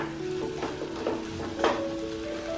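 Chopped onion and tomato stirred in a hot pan for a Kerala-style chicken roast, giving a steady soft sizzle with a few scraping stir strokes, close up and with no talking.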